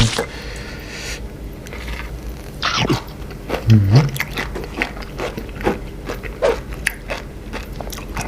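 Crunchy chewing and biting of raw seafood and sea grapes seaweed, close and loud with repeated wet crunches and scrapes, mouth sounds dominating with no talk.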